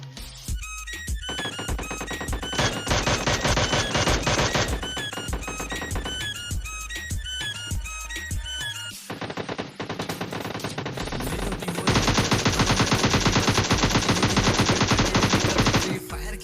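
Rapid automatic gunfire from the PUBG battle-royale video game, dense bursts of machine-gun shots rattling continuously and loudly, with sharp repeated cracks layered over a busy soundtrack.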